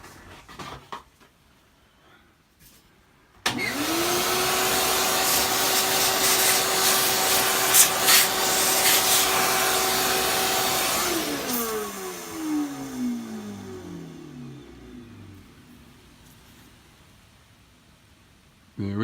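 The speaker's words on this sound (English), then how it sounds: "grab the vacuum." A vacuum cleaner switches on abruptly, roars loud and close for about eight seconds during a lightsaber builders kit assembly, then winds down with a falling whine; brief rustling precedes it.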